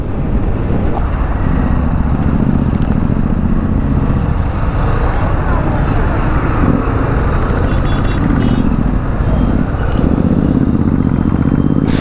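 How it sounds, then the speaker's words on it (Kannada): A Royal Enfield motorcycle with a double silencer rumbles loudly and continuously with a deep exhaust throb, amid peak-hour Bangalore road traffic noise. "ಆ ರಾಯಲ್ ಎನ್ಫೀಲ್ಡ್ ಸೌಂಡ್ ನೋಡಿ, ಆ ರಾ ಸೌಂಡು, ಡಬಲ್ ಸೈಲೆನ್ಸರ್"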